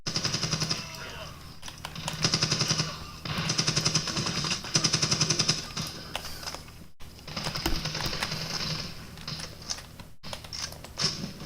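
Machine gun fire from the video game Medal of Honor 2010 comes in repeated rapid bursts with mechanical clatter between them, spread over several seconds with short pauses.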